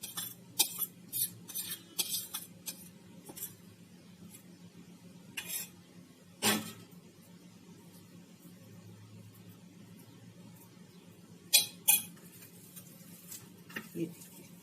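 Mixing bowl and spoon clinking sharply in scattered bursts while besan and semolina cutlet batter is transferred back into a bowl, over a steady low background hum in a home kitchen.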